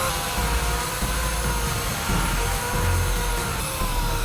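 A continuous, loud mechanical whir and grinding hum, steady throughout with slight fluctuations, as a dust-extracting power sander smooths a custom furniture wood surface up close.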